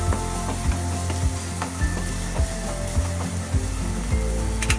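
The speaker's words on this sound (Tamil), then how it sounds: "2 மீடியம் சைஸ் வெங்காயம் பொடி பொடியாக நறுக்குனதை வதக்கிக்கலாம்." Two medium finely chopped onions fry in hot oil with cumin and two or three dried chillies for a Chettinad chicken gravy, a steady dense sizzle broken by regular scraping, clicking stirs of a spoon against the pan.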